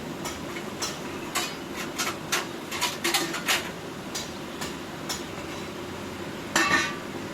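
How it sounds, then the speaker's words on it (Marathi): Flour roasts in a pan while being stirred, giving a soft background hiss broken by irregular scraping and clinking strokes of a utensil against the metal, with a louder scrape near the end. "तर आता छान असं हलवून सगळीकडे भाजून घेत आहे"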